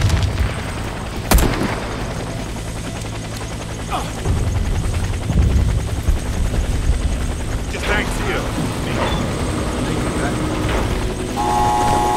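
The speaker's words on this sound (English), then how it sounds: "Helicopter is inbound. Prepare for extraction." Helicopter rotor drone in the shooter video game Warface, a steady low thrum running the whole time amid gunfire bursts, booms and other game effects, with voices talking over it.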